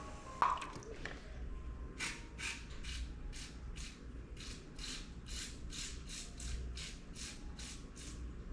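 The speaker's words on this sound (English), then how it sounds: "we're just gonna give it a quick spray down" A spray bottle mists water over aquascape rocks and soil, a faint close run of about fourteen short regular hissing squirts, after a few soft clicks and handling noises.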